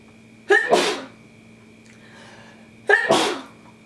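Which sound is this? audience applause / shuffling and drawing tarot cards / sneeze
sneeze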